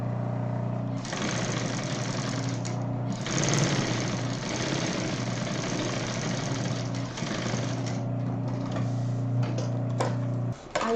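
Sewing machine stitching a medical bag with a 4.5 stitch length and backstitching at the start and finish, a steady close mechanical hum in long runs with brief pauses and no talk.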